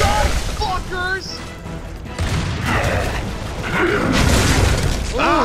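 A frag grenade goes off in a Gears of War 3 co-op firefight, a loud burst with crashing debris mixed into gunfire and game effects while players shout over the chaos.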